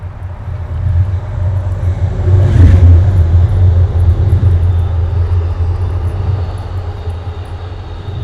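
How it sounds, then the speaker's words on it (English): Continuous loud rumble of trains in tunnels and heavy highway traffic along New York City's Riverside Park, swelling to a peak midway as something passes close, then settling into a steady roar. "So you hear trains and very loud cars."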